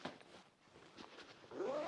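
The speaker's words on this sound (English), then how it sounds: "oh, we're caught on a zipper." Backpack zipper being pulled closed on a packed 21-liter travel pack, a close, scratchy rasp that builds into a loud continuous zip toward the end.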